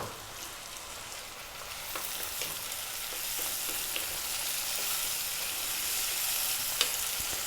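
Tomatoes and whole fresh chilies frying in a pan for dry fry dal, a steady close sizzle and hiss that grows slightly louder, with occasional faint stirring clicks and no talking.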